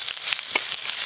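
Chopped ginger hitting mustard oil with already fried chopped onion and garlic, giving a steady close crackling sizzle with a few brief stirring scrapes, no talking.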